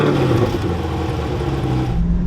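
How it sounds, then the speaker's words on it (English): A Chevrolet Corvette C8 with a performance exhaust idles after a remote start, a steady loud low rumble with a smooth engine hum that holds evenly throughout, no voices over it. "let's take a listen to what the C8 sounds with that performance exhaust"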